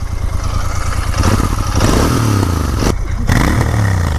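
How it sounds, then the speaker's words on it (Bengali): A newly bought super bike's engine is revved hard up close, a loud, throbbing roar that rises and falls through several throttle blips, with a brief dip near the end. "এই হচ্ছে বাইকের সাউন্ড একদম আলাদা লেভেলের সাউন্ড ভাই"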